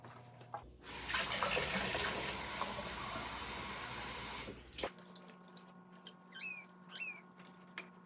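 Water pours steadily onto a houseplant for about four seconds, a close, bright splashing stream, then cuts off, leaving quiet room sounds and a few light drips.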